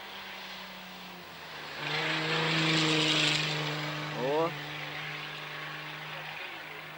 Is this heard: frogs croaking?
no